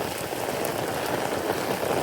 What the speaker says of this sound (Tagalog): Biglang ulan, lakas oh.